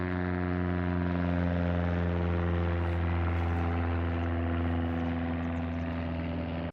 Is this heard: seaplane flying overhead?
yes